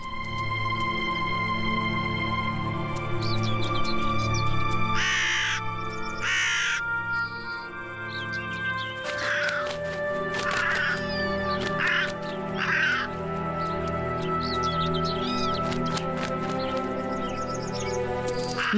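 Crows gathering to feed on a fawn carcass, several birds cawing in repeated harsh bursts over a steady background of wildlife noise, calls fairly close and loud, no speech.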